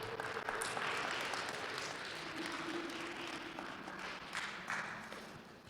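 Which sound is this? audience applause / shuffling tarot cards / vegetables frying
audience applause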